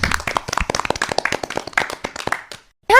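A children's audience on a radio programme claps in a brisk, dense burst of applause that fades out after a couple of seconds, followed by a brief tonal sound.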